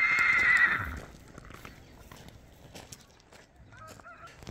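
A horse whinnies loudly and clearly for about a second at the start, followed by quieter scattered hoof clatter and faint bird calls in the background.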